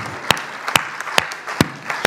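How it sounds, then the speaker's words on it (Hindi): Audience applause at a Hindi kavi sammelan poetry recital, with sharp claps recurring at a steady beat over a continuous hiss of clapping from the crowd. "मैं भाव विभल हूं आपकी इन तालियों को लेकर के कि आपने कविता का स्तवन कर दिया है"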